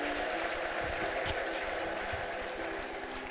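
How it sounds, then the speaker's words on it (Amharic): A church congregation claps, ululates and shouts in praise, a steady dense roar of crowd noise with sharper clapping bursts throughout. "ይሄን አድርገሃልና እልልታ፣ ጭብጨባ፣ ጩኸት ለጌታ እናመጣለን።"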